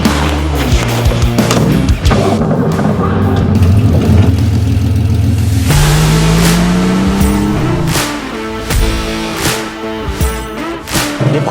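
A naturally aspirated Porsche 911 restomod with a manual gearbox revs up loudly and close, its engine note rising and falling in several sharp surges before settling to a rougher, choppier idle with brief bursts.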